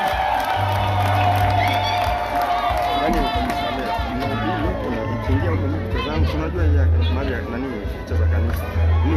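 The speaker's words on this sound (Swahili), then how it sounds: "Makofi na vigelegele kwetu jamani." Church congregation at mass erupting in a loud, continuous roar of cheering, ululation and crowd noise, with voices talking over it throughout.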